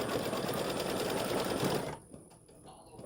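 An embroidery machine stitches a flower design with pansy buds, running fast and steady for about two seconds before stopping, leaving faint quiet mechanical noise.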